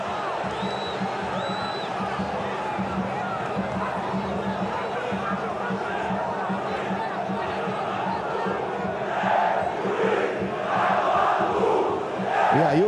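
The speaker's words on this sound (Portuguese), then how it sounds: "E aí o juiz agora é homenageado pela torcida do Vasco" Vasco supporters in a packed stadium chant at the referee during a Brasileirão match against Fluminense, a dense, continuous crowd roar with rhythmic swells toward the end.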